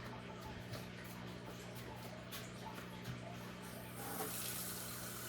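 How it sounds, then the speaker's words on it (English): Cold tap water running from a kitchen faucet into a bowl at the sink for biscuit dough, a steady close stream with a brighter, fuller gush toward the end. "You're putting cold water in it, folks."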